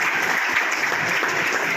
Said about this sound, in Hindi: भुवनेश जी स्वामी, तालियों से स्वागत कीजिए उनका।